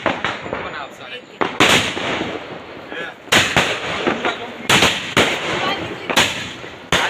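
Diwali firecrackers burst outdoors at night in a series of loud, sharp bangs spaced a second or two apart, with a person talking between the blasts.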